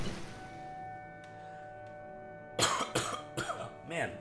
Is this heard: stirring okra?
no